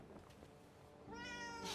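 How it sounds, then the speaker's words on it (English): A cat meows in the Forspoken video game, a single harmonic meow that rises clearly above a quiet game background near the end, no talking over it. "Oh, is that a cat?"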